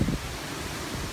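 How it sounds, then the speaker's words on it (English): Strong storm wind gusts against the microphone in a steady, faint broadband rush, with a brief louder buffet at the very start. "Boy, that wind is really picking up."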